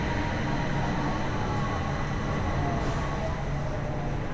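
A Bangkok Gold Line skytrain pulls into Charoen Nakhon station with a loud, continuous broadband rumble and rush of wheels and motors that stays steady throughout, with no talking.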